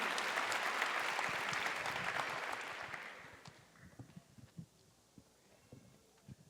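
Audience applause at a Canção Nova Catholic gathering, a dense crowd clapping loudly for about three seconds before fading into scattered claps and murmurs.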